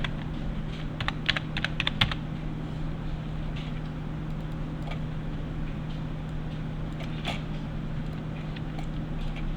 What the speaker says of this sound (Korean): 컨트롤 키 누른 상태에서 엔터 키를 눌러야 됩니다.